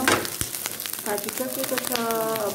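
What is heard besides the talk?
food crackling while frying in a pan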